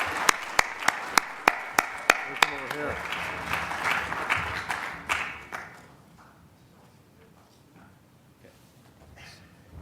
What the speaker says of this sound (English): And a big round of applause for putting this meeting together.